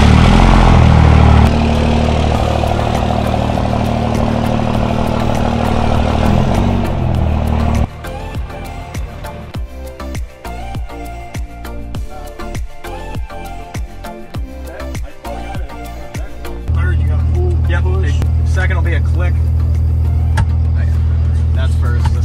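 A 1100-horsepower Cummins diesel truck engine runs loud and steady, its deep low rumble shifting in character midway as the truck pulls out, then settling back into a heavy drone.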